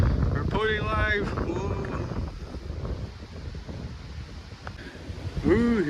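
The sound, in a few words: strong wind blowing through trees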